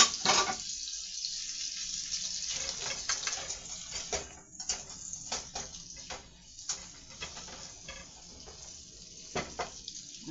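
Running tap water splashes over a seasoning container as it is rinsed at a sink, a close, continuous water stream broken by irregular bursts of splashing and spattering.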